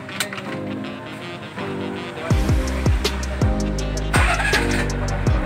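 TVS King three-wheeler with a repaired Bendix starter drive fires up smoothly after a stretch of cranking, then settles into a close, chugging idle with rhythmic pulses and a few rising revs.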